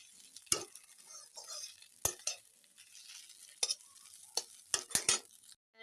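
Maggi noodles stirred with a utensil in a pan, giving soft scraping and sizzle with a few sharp metallic clinks scattered through the quiet, close-up stretch.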